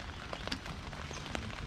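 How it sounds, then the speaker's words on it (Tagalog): Faint rain patters on a tent at night, a soft irregular tapping of drops over a quiet hiss, with no voices. "Maulan dito."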